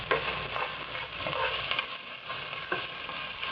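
Onion and ginger being stirred in a hot frying pan, a steady sizzle broken by scraping and clattering strokes of the spoon, close and moderately loud with no voices.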